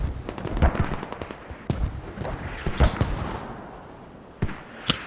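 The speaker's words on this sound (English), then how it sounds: "Mortars landing takes out TDH and Grucha." Mortar rounds and explosions in the military shooter Squad, with a rapid cluster of sharp booms early, then scattered heavy blasts spaced apart, loud and fairly close amid battlefield noise.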